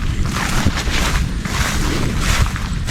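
Steady, loud wind rushing and buffeting against the microphone, a constant low roar with no voices.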